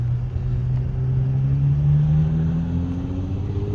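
A Nissan car engine at an indoor auto show, a steady close rumble with the pitch slowly rising as it revs, heard on its own without talk.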